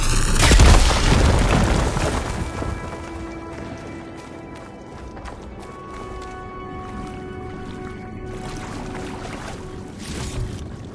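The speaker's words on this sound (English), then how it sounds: "Should be able to blow up that fire gleam" A fire gleam cluster blows up in the action game Horizon Forbidden West, a deep booming blast at the start that rumbles and trails off, followed by scattered crackles, thuds and a quieter resonant ambient tone.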